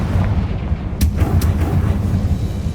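Confringo spell blasts in Hogwarts Legacy land as two sharp cracks about half a second apart over a steady, loud rumbling background.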